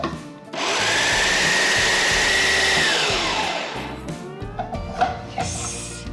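A food processor grinds paneer into a paste, its motor spinning up to a steady, loud whir for a few seconds, then winding down into lighter clatter and handling noises.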